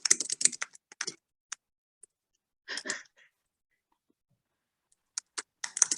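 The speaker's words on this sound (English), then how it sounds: "are you typing?" Bursts of clicking keys on a computer keyboard during an online zoning board meeting, some quick flurries and some single taps between silent gaps, close and fairly crisp.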